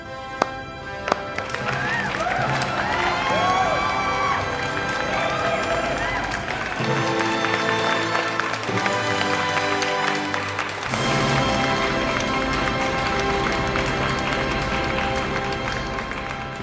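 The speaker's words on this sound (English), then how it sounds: "after seeing all these strangers clap and cheer because of you" Crowd of strangers clapping and cheering at a dance competition, a dense, steady wash of applause with whoops and voices mixed in throughout, loud and continuous.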